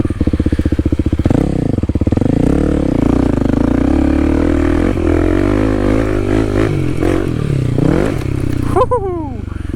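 Kawasaki KLX300 dirt bike engine running loud and close throughout as it rides through mud, with steady throttle and surging revs, then a brief whine and clatter at the end.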